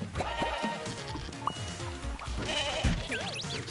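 Sheep bleat in the video game Moving Out 2, with several short wavering cries near the end that play over busy game music and sound effects.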